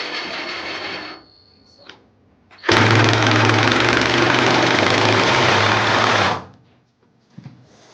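A Ryobi battery impact wrench drives bolts from above while steps are built onto an RV hauler. It fires one loud, sustained burst of roughly three and a half seconds, close by, after a quieter mechanical whir.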